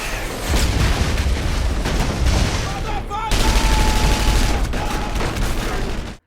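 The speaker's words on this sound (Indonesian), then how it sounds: "Kevin ditembak sepupunya, tapi Kevin menembaknya balik hingga tewas" Dense, loud gunfire from a heist film action scene, with continuous bursts and booms layered over music and effects for several seconds before cutting off abruptly.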